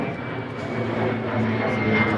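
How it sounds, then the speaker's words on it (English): An airplane passes overhead during an outdoor slow-speed motorcycle riding practice session, a steady broad engine roar that holds and swells slightly, heard at a distance throughout. "We got planes going over."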